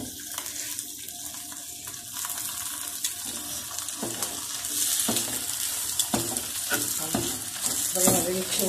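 Aloo paratha cooks in desi ghee on a griddle, a soft sizzle with clattering and watery sounds that grow busier toward the end.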